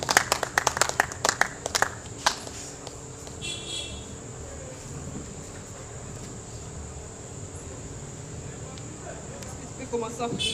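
A church congregation claps in a burst of sharp, rapid applause at the start that quickly fades, leaving a steady background hum with a high insect-like whine and a little distant noise.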